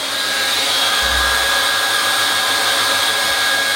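Hot air plastic welder blowing steadily, a continuous close, loud whooshing hiss with a faint steady whine and a brief low thump near the start, no talking.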